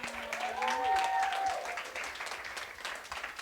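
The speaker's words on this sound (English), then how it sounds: "let's give them a round of applause." An audience applauds award-winning women at a women in leadership awards event, moderate clapping with a brief tonal sound and murmuring voices mixed in.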